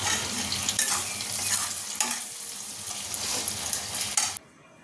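Half-fried red potatoes sizzle steadily in a pan while a spoon scrapes and stirs them in regular strokes, the sizzle breaking off abruptly at the end.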